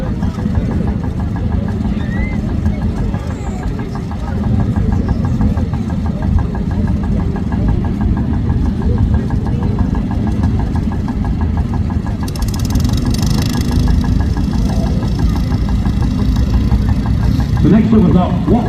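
A small vintage tractor engine running at the Sheffield steam show, a steady knocking mid-pitched chug under constant crowd and fairground background, with a brighter burst of noise partway through.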